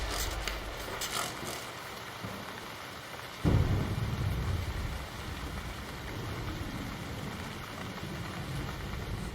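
Water sprayed as artificial rain inside a terrarium housing scorpions, a steady hissing patter that swells suddenly into a louder, denser rush partway through, then continues evenly.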